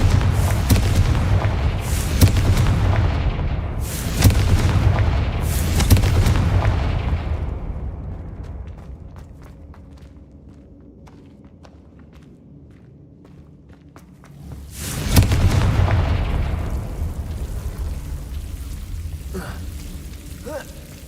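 Confringo fire spell blasts in Hogwarts Legacy, several heavy booming explosions in quick succession, then a quiet lull before another loud blast and a rumbling fade.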